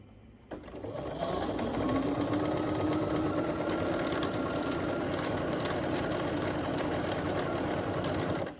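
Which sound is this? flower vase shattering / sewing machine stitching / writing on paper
sewing machine stitching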